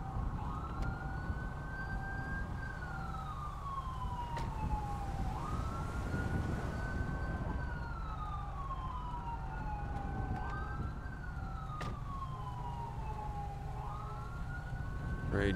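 A wailing ambulance siren in a video game sweeps up and down repeatedly at moderate distance, steady and continuous over a low rumbling background, with no talking.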